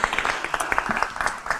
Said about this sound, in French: Je vais vous inviter bien sûr à applaudir l'ensemble de nos intervenants.